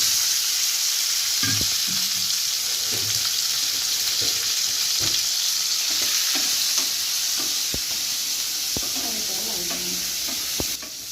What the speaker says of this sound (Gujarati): ચપટી એક હિંગ મૂકી અને આપણે ગુંદાનો વઘાર કરી દેવાનો.